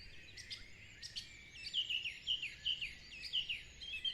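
Birds calling outdoors in nature, a series of bright chirps and short whistled phrases repeating in quick succession, fairly faint and distant over quiet background hiss.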